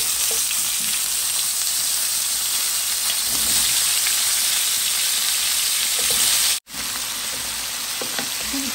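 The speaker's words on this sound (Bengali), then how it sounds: "এখন এই যে ফুলকপিগুলো ভেজে নিব" Cauliflower and potato pieces fry in hot oil in a pan, a loud, steady, dense sizzle that runs throughout, broken only by a momentary dropout near the end.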